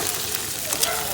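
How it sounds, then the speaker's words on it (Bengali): An egg fries in a hot pan for a Sunday breakfast, giving a steady, close crackling sizzle with faint pops throughout. "ডিমটা ভাজছি"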